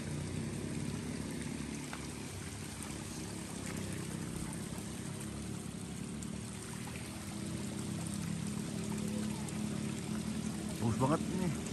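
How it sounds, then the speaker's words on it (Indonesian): Water from a spring spilling down a small waterfall, making a continuous pouring, rushing splash at an even level throughout, with light background noises on top. "Air terjun kecil dari mata air."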